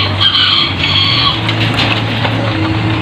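Gamefowl chickens at a breeder, including brown pure imbrick birds, with clucking and crowing calls over a loud, steady ambient background, close and continuous.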